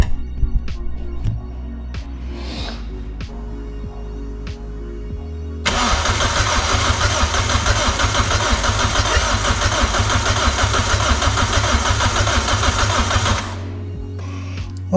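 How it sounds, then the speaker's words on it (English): A Toyota MR2 engine, with its spark plugs removed, is cranked over by the starter to build oil pressure. A low hum is broken by clicks and then gives way to about eight seconds of loud, steady, whirring cranking that stops abruptly. "We just want to turn it over, get some oil pressure in there"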